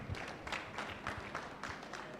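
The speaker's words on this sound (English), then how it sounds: "Let's clap for her again." An audience claps for a speaker at an event: faint, steady applause from a small crowd, heard from a distance.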